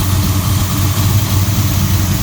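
A carbureted-style V8 with Edelbrock Pro-Flo 4 EFI on a DCI Motorsports RA5 idles after an ice-cold start, a loud, steady low rumble with a continuous throbbing pulse close to the microphone.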